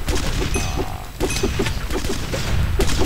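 The Egg Bomb special ability in the Smash Heroes game sets off a series of rhythmic thumping blasts and crashing impacts, repeated steadily over dense game sound.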